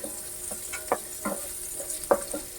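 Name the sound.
onions sautéing in butter in a pan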